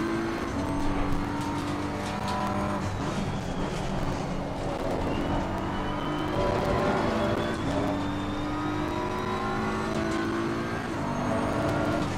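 A Porsche race car engine in Assetto Corsa Competizione, racing close behind at Imola; a continuous loud engine whine with rising and falling gear-shift tones, revving up and dropping repeatedly over the full stretch.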